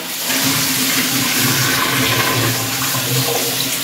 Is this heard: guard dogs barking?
no